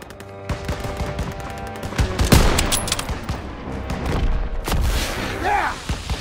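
Gunfire in a Call of Duty WW2 battle: dense, rapid bursts of rifle and machine-gun shots with heavy booms, loud and close, mixed with shouted voices.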